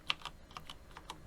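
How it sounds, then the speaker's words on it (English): Gentle, quick clicks from the keys of a Sparkpad keypad: about seven soft, close taps in an irregular typing rhythm, with no voices. "gentle clicking sound."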